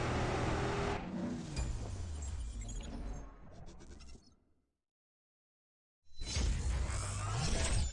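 A Bugatti race car in CSR2 revs and accelerates hard on nitrous, with loud engine notes rising through several gear changes, then a sudden silence before the roar returns at full volume.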